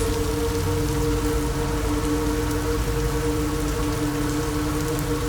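Steady rain falls at night in the Ouachita Forest, filtering through the trees near a lake, a dense continuous patter of drops with a low rumbling bed, close and even throughout with no voices.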